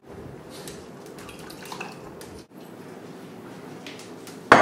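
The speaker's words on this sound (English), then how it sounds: "I'm going to pour it into our melting butter" Lightly mixed eggs seasoned with salt and pepper pour steadily into melting butter in a pan, a soft continuous wet sizzle and splash heard close, with a sharper clatter at the end.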